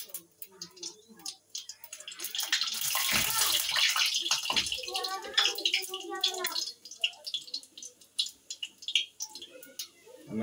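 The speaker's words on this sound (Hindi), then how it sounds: "हमारा तेल हो चुका है, अब मैं इसमें जीरा डालूंगा।" Cumin seeds hit hot oil in a pan, bursting into a loud hiss that swells and then settles into crackling and spitting, heard up close.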